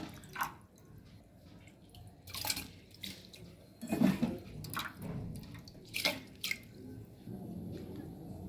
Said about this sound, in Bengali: এবার দিয়ে দেবো আমি এই চালটা, এই চালটা আমি দিয়ে দিচ্ছি।